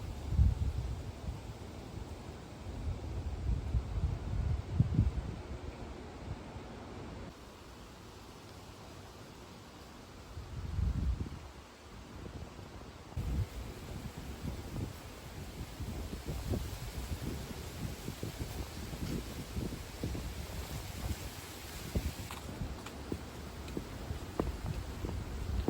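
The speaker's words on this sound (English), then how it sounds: "And it's very windy. You can feel that the storm's blowing in" Strong autumn wind ahead of an approaching storm blows in low, rumbling gusts that swell and ease across the stretch, buffeting at moderate loudness with no voices.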